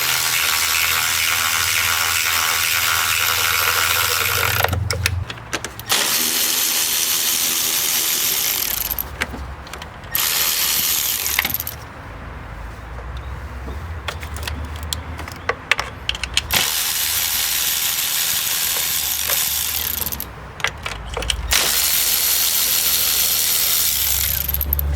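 A ratchet removes the passenger-side valve cover bolts on a 2005–2009 Mustang with the 4.0 V6 engine. Close, rapid pawl clicking comes in repeated bursts separated by short pauses and a few metallic clinks.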